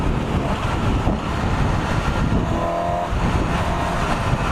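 A 2018 Suzuki GSX-S750 motorcycle ridden at speed, its engine note steady and loud under heavy rushing wind buffeting the microphone throughout.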